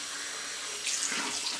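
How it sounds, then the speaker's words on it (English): Water running steadily from a tap into a sink while rinsing off during a skin care routine, a continuous close splashing hiss with a slight change as the flow is disturbed. "Then you rinse one more time."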